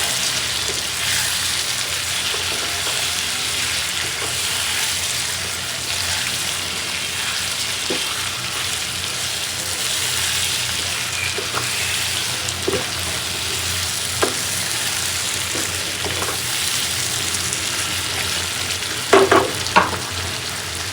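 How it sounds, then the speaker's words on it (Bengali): Prawns sautéing in a pan for a curry with pointed gourd and eggplant, a steady close sizzle of frying with occasional stirring clicks and scrapes, a few louder knocks near the end. "এখন ভালো করে কষাবো চিংড়ি মাছটা দেওয়ার পরেও।"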